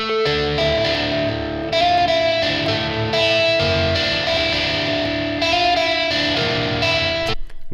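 Clean, low-gain Telecaster electric guitar with single-coil pickups playing a sustained, chiming intro riff, loud and steady throughout, alone with no voices and a sharp cutoff at the end.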